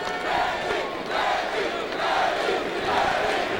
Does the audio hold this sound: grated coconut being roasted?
no